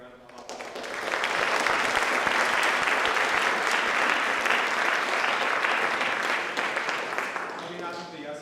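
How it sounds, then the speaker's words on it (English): A large audience at a student-council-hosted town council candidate forum breaks into sustained applause, swelling quickly and holding as a dense, steady wash of clapping for several seconds before tapering slightly at the end. "Let's give one more big round of applause."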